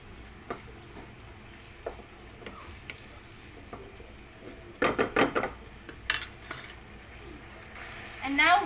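Beef mince and potato being stirred in a pan with yogurt, light scraping and clinking of a utensil against the pan, with a burst of sharper scrapes near the middle and faint sizzling underneath.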